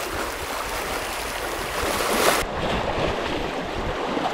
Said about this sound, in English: I mean, these waves are chopping